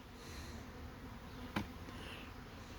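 Honey bees in an open hive in New Hampshire give off a faint, steady low hum, broken once by a single soft tap.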